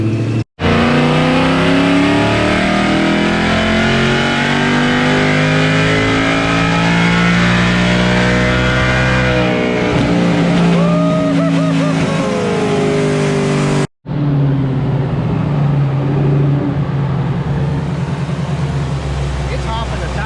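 A Whipple-supercharged Coyote-swapped car on E85 roars loudly at high revs with a wavering, straining engine note as the tires hop and bounce, broken by one abrupt cut before the loud engine noise resumes.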